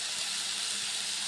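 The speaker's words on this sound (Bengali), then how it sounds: "এবার আলুগুলো ভালো করে ভেজে নিই" Potatoes frying in a pan, giving a steady, even sizzling hiss, close and continuous, with no talk over it.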